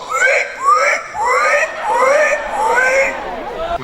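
A person imitating a pig squeal at a pig-squeal contest during a pig festival in Estissac, delivering a rapid string of loud, high, wavering squeals close up with crowd noise beneath.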